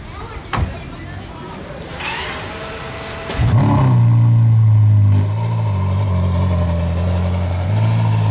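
A Ferrari SF90 Spider sports car starts up nearby with a burst of revving, then pulls away with a loud, sustained engine roar that fades slightly, while someone talks over it.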